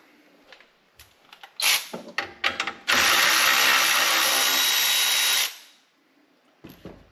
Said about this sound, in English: I'll undo this bolt here.